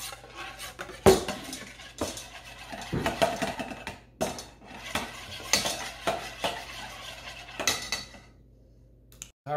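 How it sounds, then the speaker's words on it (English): Low carb coleslaw gets mixed in a bowl with a utensil, giving irregular close clinks and scrapes with short pauses between strokes, moderately loud and without talk. "Just give it a little mix."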